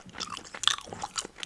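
Gum chewing close to the microphone, soft wet smacks and small crunchy clicks in an irregular rhythm, quiet and intimate with no talking.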